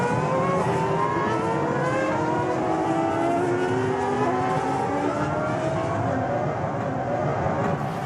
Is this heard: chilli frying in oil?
no